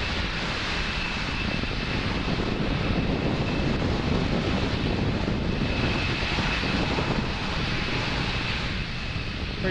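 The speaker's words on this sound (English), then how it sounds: "Falcon 9 clearing the tower at Space Launch Complex 40 and making its way to orbit." A SpaceX Falcon 9 launches from Space Launch Complex 40, its Merlin 1D engines giving a dense, continuous roaring rumble that stays loud and steady throughout, with no voices.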